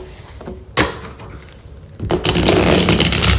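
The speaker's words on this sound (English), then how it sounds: "Do one quick shuffle." A quick riffle of tarot cards at about 0.8 seconds, then a longer, louder rush of the cards being shuffled and handled close by.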